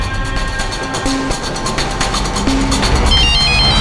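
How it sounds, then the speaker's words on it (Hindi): A phone rings with short electronic tones over a busy background of low hum and noise. "कविता का फोन है।"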